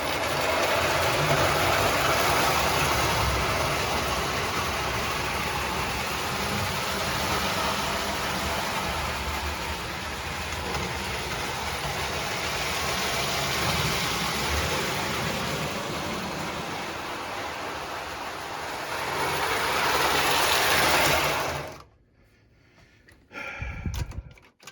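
An old, stiff Marx toy train, bought on eBay, runs around its track with a steady, fairly loud mechanical whir and rumble lasting about twenty seconds, then cuts off abruptly, leaving a brief quiet clatter.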